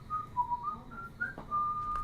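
A man whistles a tune in a film scene, a clear melodic line of short held notes with brief gaps, fairly close and alone over faint background hiss.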